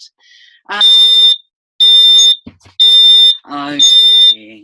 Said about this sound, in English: alert that tells me if my gas is leaking